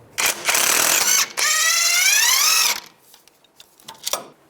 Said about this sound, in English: Take a 24mm socket, take this nut off.